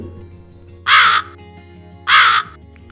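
A crow caws twice from close by, each call a harsh, loud squawk lasting about a third of a second and spaced roughly a second apart, over quiet background.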